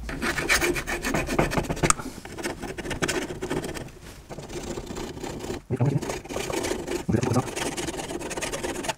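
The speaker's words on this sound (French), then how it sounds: "pour pouvoir remettre en place la nouvelle bague ABS et pour ne pas avoir le même problème, ben là, je suis obligé de limer" A hand file rasps back and forth against rusty metal so a new ABS ring will fit on a Renault Twingo. The strokes are loud, close and rhythmic, with brief pauses between bursts.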